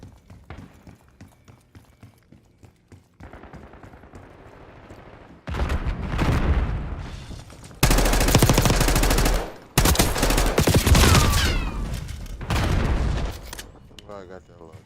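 Gunfire in a video game, sniper rifle named, arriving as loud dense bursts of rapid shots in several blocks that start and stop abruptly, with a person talking over the quieter stretch at the start.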